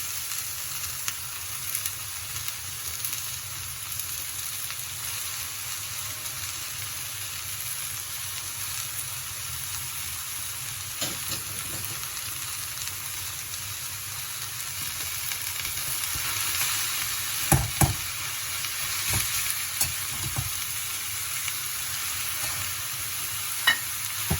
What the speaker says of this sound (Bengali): এবার এর মধ্যে দিয়ে দেবো কুচনো কলমি শাক